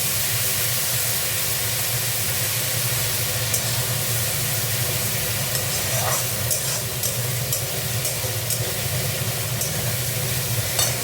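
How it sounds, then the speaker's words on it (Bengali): Spice paste sizzling steadily in hot oil in a pan for a koi fish curry, a dense continuous hiss with faint stirring scrapes, close and without talk. "দেখো মশলাটা কষা হয়ে যাচ্ছে"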